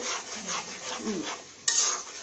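Spices, green chilies and tomato paste being stirred in a pan for Bangladeshi chicken roast: soft scraping strokes with a quiet sizzle underneath, ending in one sharper scrape, no talking.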